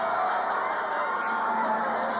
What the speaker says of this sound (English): 7 ducks.